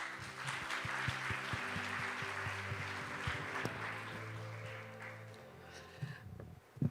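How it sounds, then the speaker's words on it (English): Audience applause at the 2025 Busan Global Partnership Forum as a women's NGO leader from Kyrgyzstan is welcomed to the stage, a steady broad clapping wash from a hall crowd that thins out near the end. "Please give her a big round of applause."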